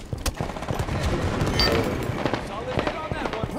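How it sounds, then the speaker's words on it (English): Grenade thrown and exploding in Halo 5 multiplayer, heard amid dense game gunfire and action sounds, with a voice talking over the mix throughout. "Throwing a grenade."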